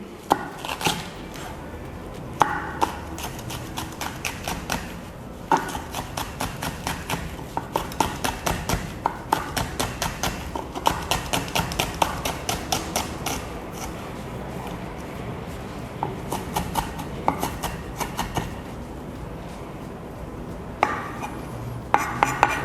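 Fresh green chili chopped with a knife on a board, a long run of quick, close, crisp chops in steady bursts with brief pauses between them.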